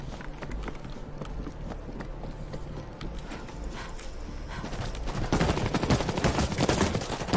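Rapid machine-gun fire in the zombie shooter World War Z: Aftermath, a dense stream of sharp cracks that grows heavier and louder over the final couple of seconds amid chaotic battle noise.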